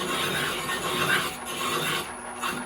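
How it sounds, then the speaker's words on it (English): A cast brake cylinder for a 100-year-old Austin 7 being turned down on a lathe, a steady rasping metal-cutting scrape that continues without pause, close and fairly loud. "Cylinder, let's pop it on the lathe"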